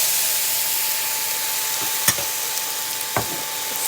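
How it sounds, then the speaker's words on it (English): Garlic frying in a pan gives a steady, loud sizzle throughout, with a couple of sharp spoon clacks against the pan as it is stirred. "Stir this up."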